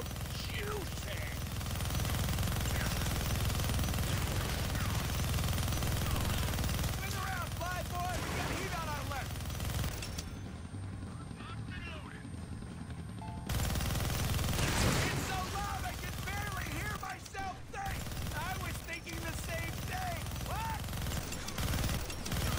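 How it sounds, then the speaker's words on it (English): Minigun fire in the Deadpool video game on Xbox One: a dense, unbroken roar of rapid gunfire fills nearly the whole stretch, loud and close, briefly thinning midway before surging back, with voices and game chatter mixed underneath. "Gonna need both hands to shoot that minigun."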